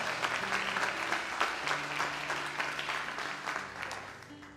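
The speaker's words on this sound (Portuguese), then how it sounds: "Vamos aplaudi-lo novamente." A church congregation breaks into sustained applause, dense clapping filling the hall at steady strength, with a low sustained tone and faint voices underneath.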